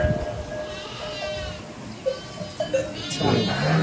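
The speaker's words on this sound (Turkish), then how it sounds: "Koyunlar" Sheep bleat in a rural village flock, several short wavering calls at moderate distance over a faint outdoor hum.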